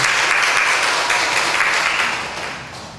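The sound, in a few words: congregation applause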